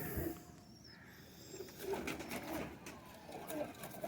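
Rampuri pigeons coo in soft, repeated calls, several close birds cooing over a busy background with faint chatter.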